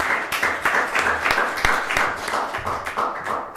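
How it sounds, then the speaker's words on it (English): Dense, lively applause fills the room at a press conference for an inclusive playground in Lewiston. Many hands clap close by for the whole few seconds. "so a round of applause for Tiffany."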